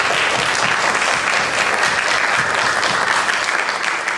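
Steady applause from a school audience at a grade 3–5 math contest, greeting the student who placed second; dense, even clapping fills the whole stretch with no talking.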